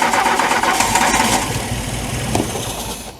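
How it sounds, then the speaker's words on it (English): A classic VW Scirocco engine, primed with brake cleaner and run on the choke, cranks and catches into a loud, rough running roar that holds steady close by, with no talking. "what you do is squirt brake clean down, get it to fire up"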